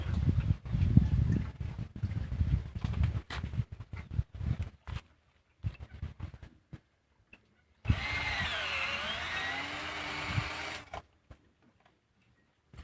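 Power drill boring into wood while building a low-cost pig pen gate, a steady whining burst of about three seconds after scattered hammering and handling knocks.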